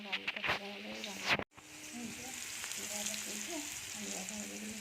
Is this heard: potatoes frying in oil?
yes